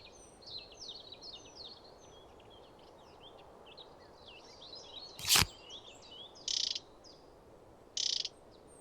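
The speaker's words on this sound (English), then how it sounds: "The chiffchaff's name comes from its song, said to announce the arrival of spring." Common chiffchaff song in the Wingspan game: a run of thin, high chirps and warbled notes, moderately faint over a quiet hiss, broken by a sharp click and two short bright electronic bursts.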